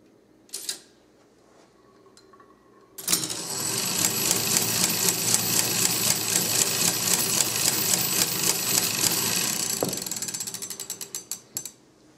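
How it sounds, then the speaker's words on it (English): A Caille roulette coin machine cycles and pays out nickels: a faint click, then a loud, steady stretch of rapid mechanical ratcheting and clattering gears for about nine seconds, tapering off into a few scattered clicks. "we'll go ahead and cycle it, and we'll hit a large payout, and you can see how this side of the machine runs."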